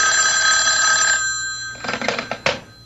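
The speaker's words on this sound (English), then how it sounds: "when I wasn't even thinking about the phone, it rang." A classic telephone bell rings loudly for about a second in a radio drama, then cuts off, followed by a few clattery handset pickup knocks.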